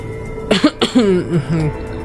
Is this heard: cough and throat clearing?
yes